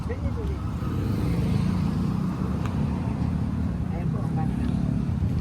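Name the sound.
old jeepney engine running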